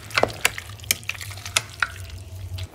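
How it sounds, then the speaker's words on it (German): A spoon stirs homemade Italian tomato sauce in a pot, producing soft wet clicks and scrapes in an irregular rhythm over a low background hum. "das muss ich jetzt einmal umrühren"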